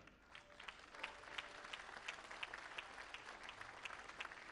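A crowd at a burial service applauds pastors, steady rhythmic clapping from many hands, fairly distant and faint, with no talk over it.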